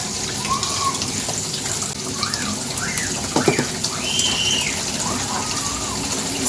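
Running water pours steadily into a sink while dishes are scrubbed and rinsed by hand, with soft clinks and a few squeaky rubs over the flow; faint bird calls sound in the background.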